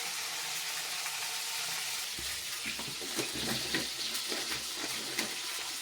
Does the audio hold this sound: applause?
no